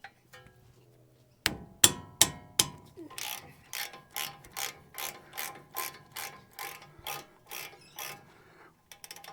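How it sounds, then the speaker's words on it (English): A socket ratchet loosens 17mm brake bolts on a Toyota Hilux: a few heavy clicks as the bolt breaks free, then a rapid even run of about a dozen ratcheting clicks, close up with no speech. "So now there's two bolts at the back here. They're 17mm, so you want to undo them."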